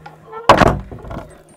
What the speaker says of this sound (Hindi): ठीक है, ये मैं बंद कर देता हूँ दरवाज़ा